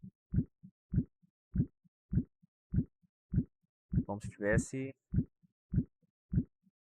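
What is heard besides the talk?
heartbeat sound effect in an animation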